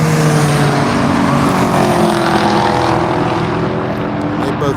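Race cars, including a Camaro, pass close together on the Grattan circuit: loud, revving engines with shifting harmonic whine that fade slightly toward the end, with some talk over them.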